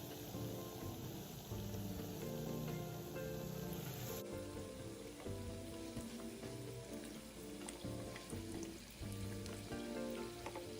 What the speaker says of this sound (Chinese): 再放入油炸，